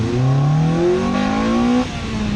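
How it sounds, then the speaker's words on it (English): Honda EP3 Civic Type R fitted with an HKS induction kit revs hard, its loud engine note climbing steadily in pitch for almost two seconds before dropping off abruptly. "Now this has a HKS induction kit as well that roars away."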